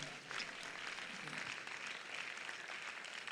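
Sustained audience applause at a university inaugural lecture, a dense, steady wash of many hands clapping that fills the hall for several seconds without pause.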